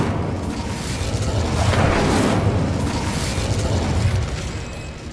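A roaring whoosh-and-rumble from the Incendio fire spell in the video game Hogwarts Legacy swells and holds for several seconds, loud and dense, then tails off.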